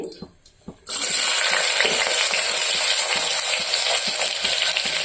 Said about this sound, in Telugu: నెక్స్ట్ వచ్చేసి ఆయిల్ కాగిన తర్వాత ముందుగా కట్ చేసి పెట్టుకున్న ఆనియన్స్ వేసుకుంటున్నానండి